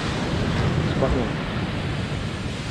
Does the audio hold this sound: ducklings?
no